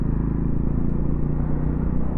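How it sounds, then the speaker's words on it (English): A Triumph Scrambler motorcycle on a standard exhaust pipe gives a steady, deep, loud burble from close by, holding an even rumble throughout with no voices. "Oh, I do like that exhaust noise, so that's really nice for a standard pipe."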